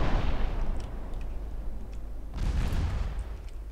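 Warship guns firing at a cruiser in Ultimate Admiral: Dreadnoughts, a continuous heavy rumble of naval artillery with deep booms swelling partway through, loud and dense.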